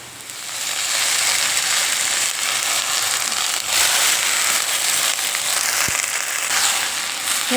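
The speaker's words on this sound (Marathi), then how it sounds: "शेवग्याची पानं टाकून याच्यात मी छान असं परतून घेतलेलं आहे" Drumstick leaves sauté with fried onions in a home kitchen pan, giving a continuous loud sizzle and crackle that starts after a brief quiet moment and runs steadily to the end, with no talking.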